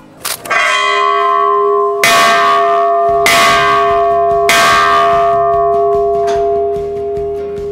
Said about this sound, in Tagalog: Simple lang ang tunog ng kampanang ito